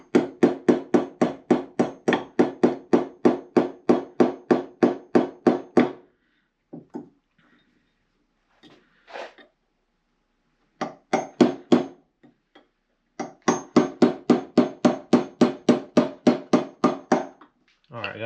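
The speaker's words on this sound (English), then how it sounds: "So let me tap the pin in." A hammer taps a pin into a part from a 1938 Dodge fuel system: a fast, steady run of sharp metallic blows, then a pause with a few scattered knocks, then two more rapid bursts of evenly spaced taps, close and loud.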